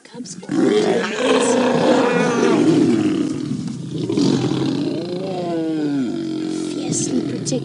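Several lions roar loudly and close by on an African safari after a scuffle between males and a pride with cubs, the calls long and overlapping, ending in a few drawn-out descending moans.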